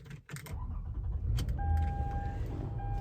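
Keys jangle, then a 2004 Lexus RX 330 engine, after sitting two weeks, cranks and catches, settling into a low idle with a faint whine nearby.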